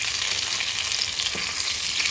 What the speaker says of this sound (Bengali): এখানে আলু আর ফুলকপি ভাজা হয়ে গেছে, লাল লাল হয়ে গেছে।